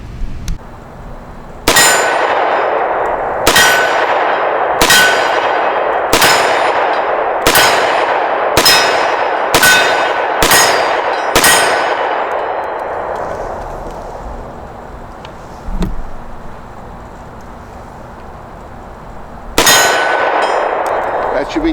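A Versailles Broomhandle pistol fires about nine loud shots in an uneven rhythm, each crack ringing against a steel target, then a long pause and one more shot.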